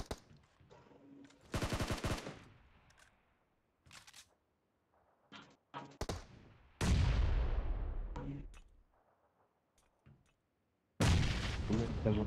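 A shooting video game match carries a bomb explosion and gunfire: loud bursts of rapid shots, a big booming blast with a long rumbling tail, then more heavy firing, with quiet gaps between.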